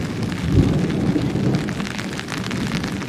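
Heavy rain pours steadily at Vayalada hills in Kozhikode, with low rumbling thunder rolling underneath, a loud, dense and continuous wash of sound.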